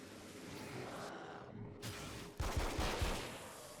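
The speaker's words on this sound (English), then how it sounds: "the pistol shoots way faster than the revolver in the original" Pistol gunfire in Alan Wake Remastered, a short burst of several quick shots near the end following a quieter stretch of game ambience.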